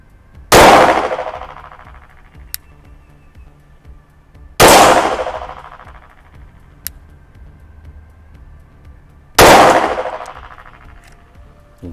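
Three sharp, loud Glock 17 MOS pistol shots fired at a target, evenly spaced several seconds apart, each a hard crack with a ringing decay, and faint small clinks between them.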